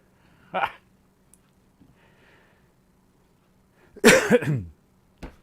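A short cough, then a louder, throaty cough burst a few seconds later, followed by a brief faint sound in a quiet room.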